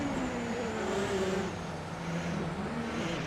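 Racing car engine of a 2016 Porsche 919 Hybrid in a video game, a steady, continuous droning roar with a sustained tone and slight pitch shifts throughout.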